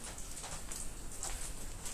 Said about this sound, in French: pouvez entendre la pluie qui tombe. Ça filtre de partout ici.